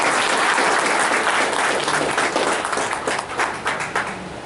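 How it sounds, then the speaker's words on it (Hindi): An audience at a Hindi public event on digital revenue services breaks into loud, dense applause, a sustained wash of many hands clapping that thins slightly toward the end. "मैं चाहूंगा आप लोग इसका जोरदार तालियों के साथ"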